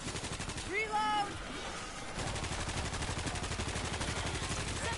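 Continuous rapid gunfire in the World War Z video game, a steady rattling stream of shots at moderate distance running under a brief voice and some whistling game noise early on.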